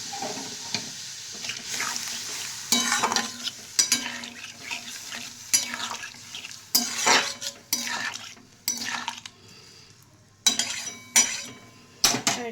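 A spoon scrapes and clatters around a pan of paneer gravy with milk, in irregular bursts of stirring and metal clinks over a faint simmering sizzle, close and unvoiced.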